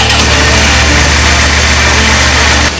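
A Suzuki Gixxer 750 motorcycle idles steadily after a cold start in a garage, a loud, close, continuous engine drone with a low throbbing rumble that cuts off near the end.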